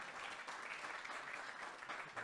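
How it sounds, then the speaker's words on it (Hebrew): Audience applause fills a panel session at a sports innovation conference: a steady, dense wash of many hands clapping at an even level throughout, with no voices over it. "הנה קצת כפיים"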